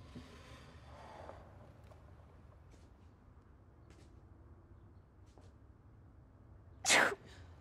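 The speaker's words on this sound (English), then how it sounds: "Did you just sneeze?" A single sharp sneeze bursts out near the end, loud and close, after several seconds of quiet room tone with faint background noise.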